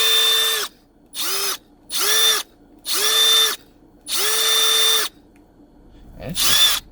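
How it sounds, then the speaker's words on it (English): Milwaukee battery-powered hammer drill from a new combo kit whirring in five loud close bursts of varying length, each spinning up and stopping sharply, followed by a short handling noise and one last brief burst. "battery powered drill"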